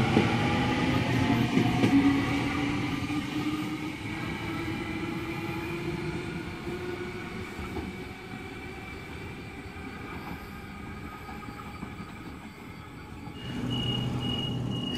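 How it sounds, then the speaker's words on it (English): A Sydney train, set A29 on a MacArthur service, departing a suburban station platform, heard as a steady low rumble with rising motor whine and squealing tones, fading slightly before a high tone near the end. "A29 now departing platform number 2, MacArthur Service."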